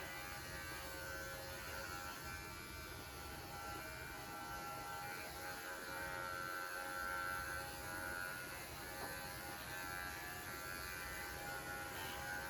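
An electric pet clipper buzzes steadily while grooming a dog, a constant close, fairly quiet whirring hum with slight changes in pitch as it moves through the coat, no talking.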